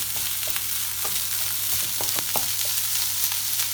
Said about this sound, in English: Keep frying that round.